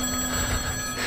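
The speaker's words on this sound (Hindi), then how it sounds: "यहाँ पे टेलीफोन किसका बज रहा है" A telephone rings inside a horror video game, a steady buzzing bell tone holding for about a second at moderate level with no talk over it.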